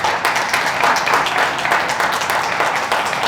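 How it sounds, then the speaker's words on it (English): An audience claps and applauds steadily to welcome speaker Donna Addkison at an AGC evening event, a dense and loud wash of hands held evenly throughout. "So let's have a warm AGC welcome and a round of applause for Donna Addkison."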